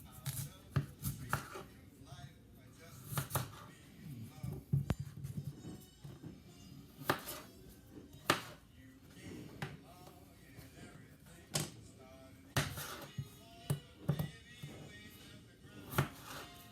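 A knife chops peeled potatoes on a cutting board, a series of sharp, irregular close thumps with softer gaps between them, quiet overall, and a little faint background noise.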